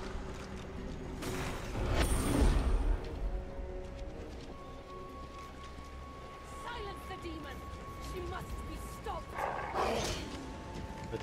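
A dog being struck in the fantasy role-playing game Divinity Original Sin 2, giving short bark-like yelps in two bursts, early and near the end, over game clatter and background voices.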